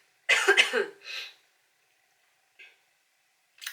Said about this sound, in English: Clear my throat, excuse me.